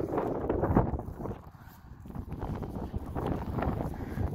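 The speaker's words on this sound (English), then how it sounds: "Ooh, it's getting windy here." Wind blowing outdoors in a warm breeze, a continuous low rumbling buffet across the microphone that rises and falls, with faint rustling throughout.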